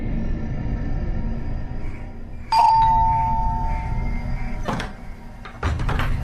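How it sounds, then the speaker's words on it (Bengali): A doorbell rings with a single bright electronic chime over a low room hum in an audio drama, followed by a couple of short door-like knocks or clunks, with no talking. "দরজায় কলিং বেল টিপতেই একটা বছর 15 বাচ্চা মেয়ে দরজা খুলে দিল।"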